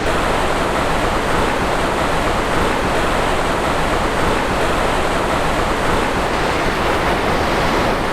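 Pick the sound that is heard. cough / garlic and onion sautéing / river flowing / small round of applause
river flowing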